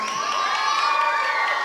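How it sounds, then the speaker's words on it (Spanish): A crowd cheers and shouts loudly and steadily throughout a Paraguayan folk dance performance at a patron saint festival, a continuous wall of excited voices. "¡Arriba esos aplausos!"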